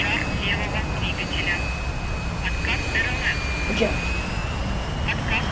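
A T-45 jet trainer mod in the DCS flight simulator, its engine giving a steady whining roar with a high sustained tone throughout, while someone talks over it.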